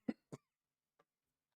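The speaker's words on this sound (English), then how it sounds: "I'll be glad when this lingering cough is completely gone." Two sharp, close coughs from a person with a lingering cough, one right after the other, followed by a faint short throat sound, in an otherwise quiet room.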